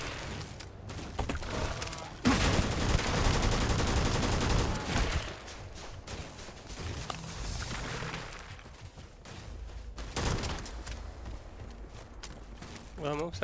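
Gunfire rattles through a firefight in the sci-fi role-playing game Starfield, a long loud burst followed by scattered shots and thuds amid shifting game sounds, with brief stretches that may carry speech.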